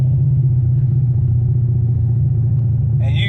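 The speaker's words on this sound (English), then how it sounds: "I'm going to leave it in overdrive and I'm going to make a pull" A car with a Ford AOD automatic transmission held in overdrive gives a loud, steady low engine rumble as it pulls under acceleration, with a brief higher whine rising near the end.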